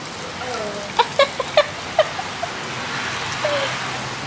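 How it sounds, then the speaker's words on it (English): Heavy rain pours down outdoors in a steady broad hiss, with a few sharp taps and splashes and faint voices underneath. "That's how much rain is pouring down right now."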